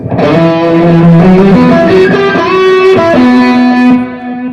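A loud, sustained electric guitar lead played live through a JHS AT signature overdrive pedal, thick overdrive on a slow melodic line of held, bending notes.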